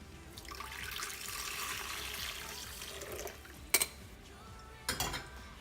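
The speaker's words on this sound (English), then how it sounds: "Then I just pour my espresso in" Espresso is poured over a tablespoon of butter and whipping cream, making a steady splashing trickle for about three seconds. Two sharp clinks of a cup or utensil follow, close and clear.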